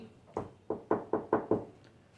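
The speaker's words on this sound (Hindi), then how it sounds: "एक बार बीरबल के घर पर नौक हुई।" Knocking on a house door: six sharp raps, one single knock followed by five in a quick, even rhythm, close and clear with no other sound.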